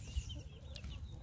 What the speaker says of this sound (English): And then we have 9 Cornish cross chicks right here.